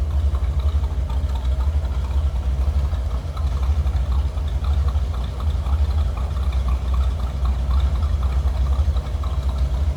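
A 1957 Ford Thunderbird engine idles steadily and loudly, heard from the rear of the car, with an even, continuous rumble and no voices.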